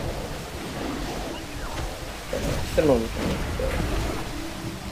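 Rushing, wave-like water ambience in a World of Warcraft dungeon, the Temple of the Jade Serpent, a steady wash of surf noise running through the whole stretch while someone talks over it.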